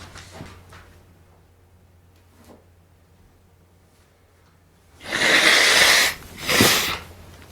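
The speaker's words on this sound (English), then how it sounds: "I gotta blow my nose" A person blows their nose in two strong, close bursts, a long rasping one followed by a shorter one, after several seconds of near silence.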